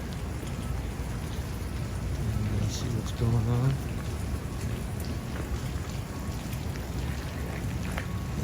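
Steady rain pours across an outdoor civic center mall under renovation, a constant close hiss filling the scene while someone speaks briefly over it.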